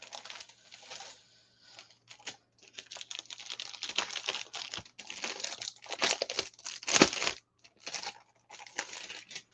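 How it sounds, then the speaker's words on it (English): Plastic packaging crinkles and rustles while binders are handled, arriving in irregular bursts of crackling with short pauses between them. The sound is close and moderately loud, and no one speaks over it. "I don't know if y'all can really hear the crinkle"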